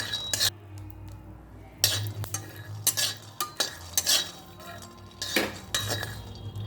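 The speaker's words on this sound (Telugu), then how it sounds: "పల్లీలను అయితే వేయించుకోవాలి. బాగా వేగేదాకా వేయించుకోవాలి." Peanuts roasting in a dry pan while a metal spoon stirs and scrapes them, producing repeated loud clinks and rattles in an uneven rhythm over a soft background sizzle.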